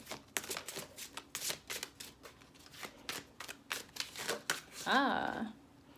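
Tarot cards shuffle close by in a quick series of crisp riffling snaps, followed by a brief rising whistle-like voice or squeak near the end.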